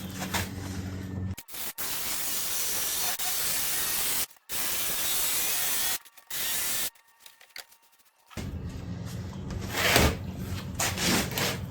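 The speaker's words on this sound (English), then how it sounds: "Start with the old jigsaw." An old jigsaw cutting during the restoration of a 40-year-old media blaster, loud close buzzing bursts that start and stop several times with short silent pauses between cuts.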